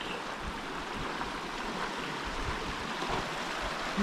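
Osier Creek, a mountain creek in Idaho backcountry, makes a steady, full rush of flowing water with no letup, close by and unaccompanied by any voices.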